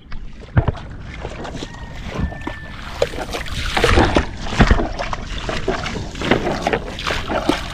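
Water splashes and sloshes against a small boat moving along a river, with wind buffeting the microphone and occasional knocks, close and continuous.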